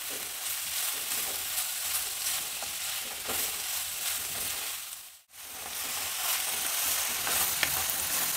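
Vegetables for veg fried rice stir-fry in a hot pan, giving a continuous near sizzle with light clatter from stirring; the sound cuts out briefly partway, then resumes at the same level, with no voices.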